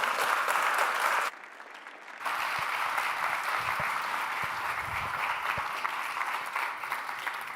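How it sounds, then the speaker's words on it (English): A lecture audience applauds a guest economist, a broad sustained wash of clapping from a large crowd that briefly dips and then resumes at full strength. "Give her a big hand of applause"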